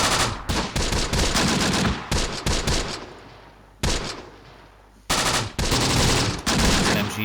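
Machine gun fire from the Close Combat: The Bloody First video game rattles out in loud, dense bursts, broken by short gaps and one longer quieter lull before the firing resumes.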